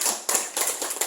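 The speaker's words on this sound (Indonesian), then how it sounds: "tepuk tangan dulu dong" A small group claps on request at an Indonesian-language gathering, producing a few quick bursts of sharp, close hand claps in an uneven rhythm.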